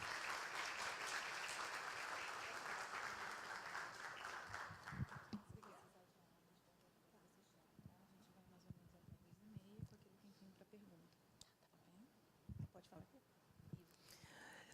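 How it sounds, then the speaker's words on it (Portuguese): Audience applause for a woman lecturer, a history professor, at an academic course session, a dense burst of clapping that fades after about six seconds into scattered claps and room noise. "Uma salva de palmas para ela."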